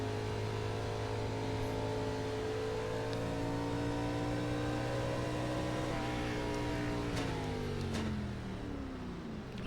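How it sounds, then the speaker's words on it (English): A 2003 Gen 4 NASCAR stock car engine in iRacing, set at Atlanta, drones and revs steadily for nearly ten seconds, its pitch shifting slightly toward the end, with no talking. "Sitting here revving the engine"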